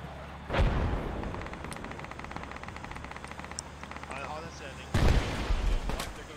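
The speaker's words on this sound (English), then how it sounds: "Are they the one throwing nades right now? That's yep, a grenade launcher." Two heavy grenade launcher blasts in the Project Reality military shooter, one early and one near the end, with a low rumbling tail in between and people talking over it.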